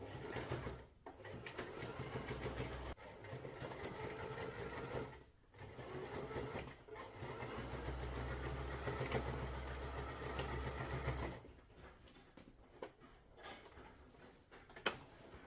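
A sewing machine stitches fabric for a storage cube bag, running steadily at a fast, even hum, pausing briefly a few times before resuming, with a slower, uneven stretch near the end.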